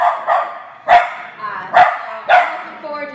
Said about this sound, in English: she barks, and in true healer fashion, she chases bicycles and rides.